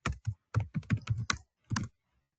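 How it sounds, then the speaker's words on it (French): Bursts of computer keyboard typing during a software demonstration, irregular clusters of close, crisp key clicks for about two seconds with short pauses, no voices. "Donc, par exemple, je tape Monsieur Dupont."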